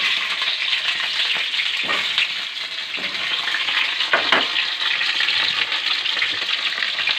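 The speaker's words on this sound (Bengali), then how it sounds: "তেলটা গরম হয়ে গেছে, এবার আমি আলুগুলোকে দিয়ে দেবো।" Potatoes fry in hot oil, giving a dense, even, close-up sizzle that runs throughout, with a few occasional stirring strokes.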